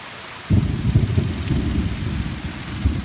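Rain pours steadily during a thunderstorm in Liberty, Missouri, with a low rumbling roll of thunder starting abruptly and continuing under the heavy downpour, close and loud, with no voices.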